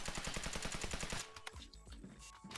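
An early-game weapon in the shooter Delta Force Hawk Ops fires rapid automatic bursts, loud and rhythmic for about a second, then stops, leaving scattered metallic clicks and handling sounds.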